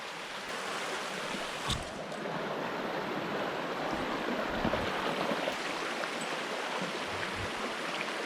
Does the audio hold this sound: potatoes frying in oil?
no